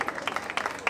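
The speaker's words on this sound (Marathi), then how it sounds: "जोरदार टाळ्या देऊयात या सर्व कलाकारांसाठी" A short burst of audience applause for the performers at a religious memorial festival, with ragged, overlapping claps rising and falling over less than a second.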